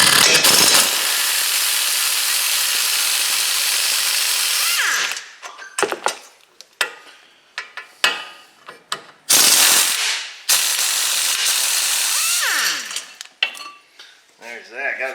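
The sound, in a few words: removing brake caliper bracket bolts on a Chevrolet Sonic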